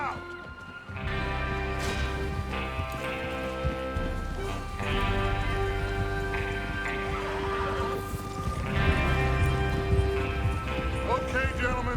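Horses move out in Red Dead Redemption 2, hoofbeats clip-clopping under a layer of game music and ambience, with a few louder swells as the riders head out.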